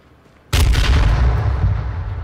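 A sudden loud gunshot blast in the H1Z1 battle royale game, booming close after a quiet moment and ringing out with a long rumbling tail.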